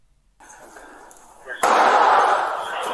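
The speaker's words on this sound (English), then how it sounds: "More gunshots." Gunfire during an active shooter response training drill, a sudden loud blast cutting in after a lower steady background and then sustained, echoing noise indoors, with voices mixed in.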